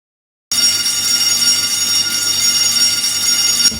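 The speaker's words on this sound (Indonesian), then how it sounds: "Itu suara bel apa kak?" A bell rings continuously and loudly, a shrill sustained electric ringing that starts abruptly after a brief silence and holds steady to the end.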